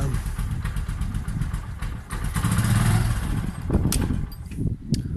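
A Bajaj Boxer X150 motorcycle engine runs at a steady, fairly low rumble with some light mechanical clatter and faint clicks, close by and without anyone speaking.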